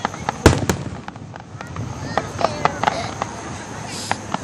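Fireworks explode in a scattered series of sharp bangs and crackles, one loud burst followed by several smaller pops, with people talking nearby.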